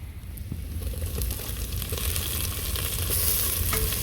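Tomatoes fry in a hot pan for masala Maggi noodles, a dense, continuous sizzle and crackle that holds steady and close for several seconds, with faint stirring scrapes and no voices.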